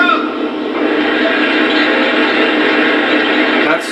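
Refueling sound of an SD70ACe locomotive in a train simulator game, a steady, loud mechanical drone that holds unchanged for several seconds, then cuts off abruptly at the end.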